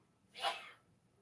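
A single quick sneeze bursts out, short and breathy, against quiet background hiss.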